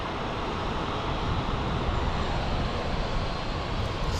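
Steady, loud roar of a jet airplane engine at full power during takeoff from the runway at Fort Lauderdale International Airport, a continuous broadband rush heard from nearby with no talking.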